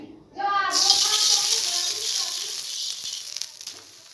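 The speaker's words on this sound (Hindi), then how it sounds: "घी लगाने के बाद अपन इसको सेक लेते हैं" A radish-stuffed paratha roasts with ghee on a hot tawa, with a steady near sizzle that starts abruptly and holds for several seconds, thinning slightly toward the end.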